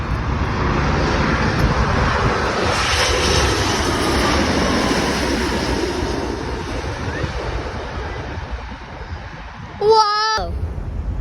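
A United Airlines Boeing 787 passes overhead as a broad, steady jet roar under wind buffeting on the microphone, with surf-like rushing noise and a brief squeak near the end.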